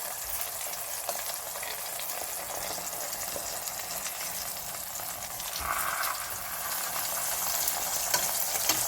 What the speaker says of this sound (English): let those continue to cook in the oil